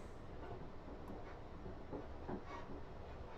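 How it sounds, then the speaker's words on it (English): A passenger train on the Portsmouth Direct Line decelerates on its approach to Guildford station, with a steady rolling rumble, soft wheel clicks and faint hiss heard from inside the carriage. "we're getting an idea for how quickly this train slows down"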